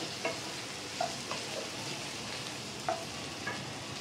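Pieces of ivy gourd fry in oil in a covered pan, giving a soft, steady sizzle with a few faint scrapes and clinks as they are stirred, quiet and close with no voices.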